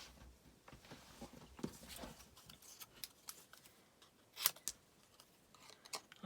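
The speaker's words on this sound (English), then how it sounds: "I'm just going to trim that round with a pair of scissors." Scissors snip through paper card while trimming it round for a papercraft project, producing faint, scattered crisp cuts at close range in a quiet room.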